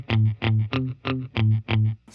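Electric guitar run through a One Control Crocodile Tail Loop pedal switcher patch, with distortion, chorus and effects: six punchy, evenly spaced chords or notes played close and loud with sustained tone, no talking.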